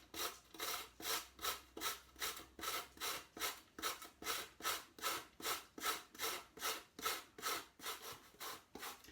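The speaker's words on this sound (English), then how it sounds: "I'm going to grate the beetroot and also the courgette" Beetroot and courgette rubbed against a hand grater in steady, rhythmic rasping strokes, about two per second, close by and alone with no talk.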